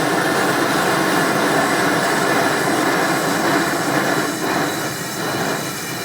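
Amal forge burner running with the choke wide open and a rich blue flame, a loud, steady, broadband roar of rushing gas and combustion that holds without a break throughout.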